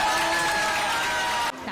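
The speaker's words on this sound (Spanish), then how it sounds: "También aplausos en el PP de Cantabria" Applause and cheering at a PP party gathering in Cantabria, a dense burst of crowd clapping with whoops and cries in a busy hall, loud and brief, cutting off abruptly.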